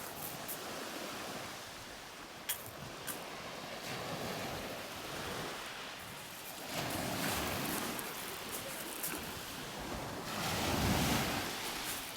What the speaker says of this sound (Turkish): Burada yüzülmez ki. Dalga var.